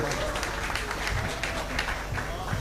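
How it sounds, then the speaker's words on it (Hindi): A mushaira crowd in Nagpur claps to welcome a visiting poet from UP, a rough, busy wash of hand claps at low level with murmuring voices mixed in. "जोरदार तालियों के साथ उनका इस्तकबाल करें।"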